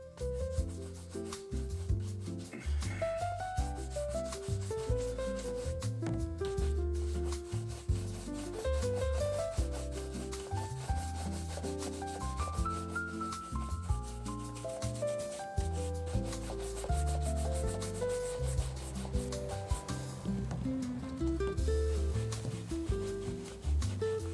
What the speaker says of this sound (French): un coup de brosse pour enlever l'excédent